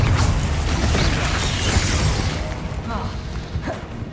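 Confringo fire spell blast in the game Hogwarts Legacy, a loud booming burst with crackling rumble that dies away, followed by fainter whooshing effects toward the end.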